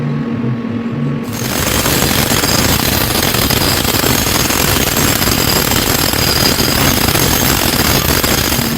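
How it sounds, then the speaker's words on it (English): TIG welding a chamfer weld on a billet gear box: a dense, steady crackling buzz that starts about a second in and holds evenly loud throughout, with no voices. "I like to call what you just saw a chamfer weld."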